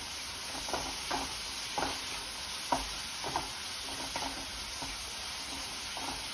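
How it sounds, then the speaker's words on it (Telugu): Curry leaves fry in a pan with a steady hiss, broken by regular scraping stirs that come roughly every half second. "కరివేపాకు, ఇవి బాగా వేగాలండి"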